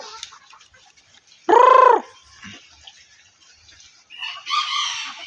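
A junglefowl rooster gives one loud, close crow lasting about half a second. Fainter, higher calls from other fowl follow a few seconds later against a quiet background.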